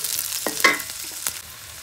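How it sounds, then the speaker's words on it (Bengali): Onions lightly frying in a pan with green chillies, cardamom and cinnamon: a steady broadband sizzle with a few short scraping stirs of a spoon against the pan, close and moderately loud, no voices. "পেঁয়াজটা একটু হালকা ভেজে নিব।"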